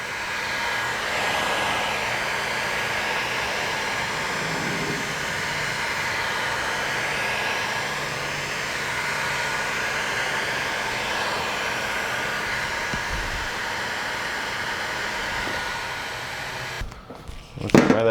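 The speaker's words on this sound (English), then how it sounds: "So I got the tire kind of warm with the heat gun" A heat gun blows steadily close by, warming a tire on a Cub Cadet RZT-54 zero turn tractor on a cool day, its continuous hot-air hiss holding unchanged for most of the stretch before cutting off near the end.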